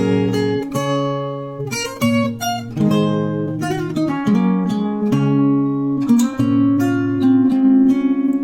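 Guitar playing the intro of a song, with plucked melodic notes over ringing chords in a steady, moderately loud and clear phrase, no voice over it.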